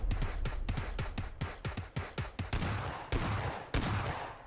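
Gunfire in the video game Battlegrounds, a fast burst of automatic rifle shots in rapid rhythmic succession followed by a few heavier separate bangs, loud and close with no voices.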